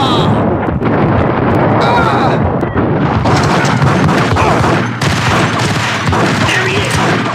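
Gunfire in the Max Payne video game, a dense barrage of loud booming shots and blasts that rings out almost continuously, with brief dips between bursts.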